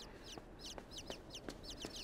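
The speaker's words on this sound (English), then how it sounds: "Little chicken." Short repeated clucks from a chicken in the video game Inside, several soft bursts spaced across the moment over a faint background hum.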